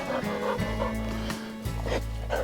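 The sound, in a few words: dog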